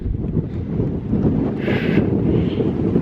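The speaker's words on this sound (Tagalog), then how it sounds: "Dahil mahangin ngayon" Wind buffets the microphone outdoors in a British garden where rhubarb grows, making a steady, loud low rumble with a brief airy gust partway through and no one talking.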